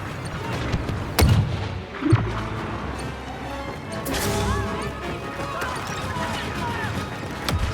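A grenade explodes in the Star Wars Battlefront II video game, with sharp blasts near the start amid continuous battle noise and radio-style voices talking over the action.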